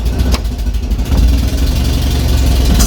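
Invacar three-wheeler engine just caught after starting, running in a loud, close, rough idle with a steady low rumble and a few sharper blips.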